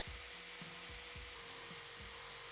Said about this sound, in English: I'm gonna go ahead and cut it.